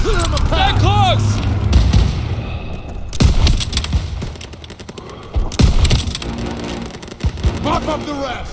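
Repeated bursts of gunfire in a Call of Duty WW2 stronghold mission, sharp loud shots clustered into rapid volleys amid battle noise, with voices talking between and over the firing.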